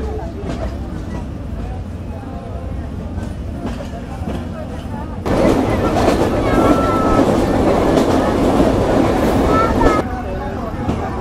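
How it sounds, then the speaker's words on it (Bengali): The Sagardari Express leaves Chuadanga railway station in Bangladesh, heard from on board as a steady low rumble with wheel clatter that swells louder partway through, with voices speaking over it. "আমরা চুয়াডাঙ্গা জেলার চুয়াডাঙ্গা রেলওয়ে স্টেশনে আমাদের নির্ধারিত যাত্রাবিরতি শেষ করে এখন ডিপারচার নিচ্ছি চুয়াডাঙ্গা থেকে"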